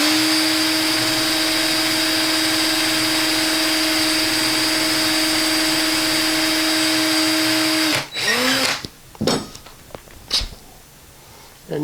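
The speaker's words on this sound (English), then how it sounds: "And then you can just cut yourself a 1/4 inch ring out of that." A power tool cuts a quarter-inch ring from a cork, making a steady, loud, close whine for about eight seconds that then stops abruptly, followed by a few short knocks and handling sounds.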